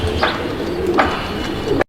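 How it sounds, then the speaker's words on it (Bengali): High flyer pigeon cooing close by at a pigeon sale in Mirpur, Bangladesh: soft repeated coos in a steady rhythm over a constant murmur of background noise. "কবুতর দেখেন আপনারা, ভালো একটা কবুতর, হাই ফ্লায়ার কবুতর"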